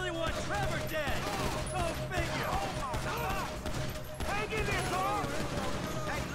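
GTA V gunfire in a mission, steady rapid shooting bursts layered under excited voices talking over the action, continuous and fairly dense.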